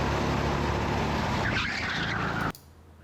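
Go-kart on a track, its engine and tires loud and close with a scrubbing, squealing edge as it brakes before turning in, then cutting off abruptly near the end.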